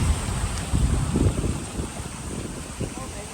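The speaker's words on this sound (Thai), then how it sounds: "ลมโวยโวย" Wind blows outdoors beside water at a fish trap after heavy rain, a steady broadband rush with low gusty rumble buffeting the microphone and a faint lapping undertone, with no voices present.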